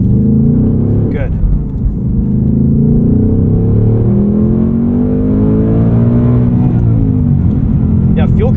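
Ford Mustang Dark Horse with Tremec six-speed manual revving hard toward fuel cut on a track, a loud, steady engine drone climbing in pitch, heard from inside the car, with a short dip around the second mark.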